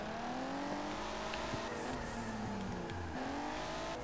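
A car drifting in the Juiced 2 street-racing game roars steadily, its engine pitch rising and dipping through the slide, with faint tyre squeal under a constant loud drone.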